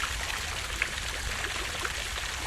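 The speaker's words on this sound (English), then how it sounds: "the fountain, which now has much better effect for water" A fountain in the zombie game Zombelies holds pond-like water, heard as a steady, soft splashing trickle and stream with no talk over it.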